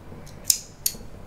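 Scissors snip yarn after a crochet rose petal is sewn in, two sharp, crisp cuts close to the microphone, quiet otherwise.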